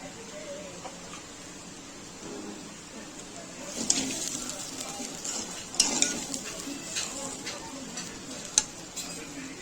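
Raisins roast in a pan for Maharashtrian coconut rice with a soft, steady sizzle. Occasional scraping stirs and light clinks of a spoon against the pan break through the low sizzle.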